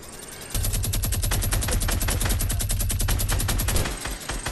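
A minigun in a shooting video game fires one sustained, very loud burst of rapid rounds lasting about three seconds, then cuts off abruptly.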